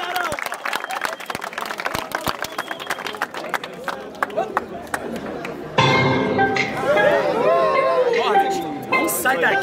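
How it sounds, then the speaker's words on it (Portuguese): Crowd at a rap battle clapping and cheering in irregular bursts, with loud excited voices shouting over the applause throughout. "Vamos aplaudir,"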